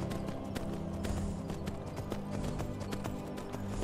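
Hooves clip-clop steadily as a horse is ridden in Skyrim VR on PlayStation VR, a regular trotting rhythm of close, crisp hoofbeats under a steady game ambience.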